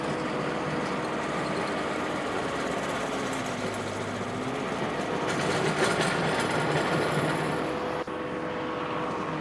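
A compact tracked stump grinder chewing through a stump, one of several tree stumps being ground out, heard as a loud, continuous roaring engine and grinding wash that stays steady throughout with only a brief dip near the end.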